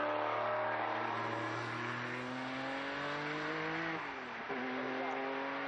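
A historic Ford Mustang Probe, an IMSA race car, is heard with other cars at the Estoril Classics historic race. Its engine blares loud and steady, climbing through the gears with a brief drop at one shift before pulling on hard.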